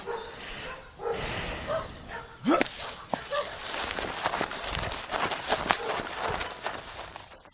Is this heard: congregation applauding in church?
no